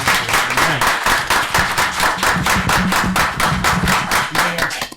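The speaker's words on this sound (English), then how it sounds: "Let's give them a round of applause" An audience at a city commission meeting gives a round of applause, close, loud, rhythmic clapping from a modest group that runs steadily and then stops abruptly.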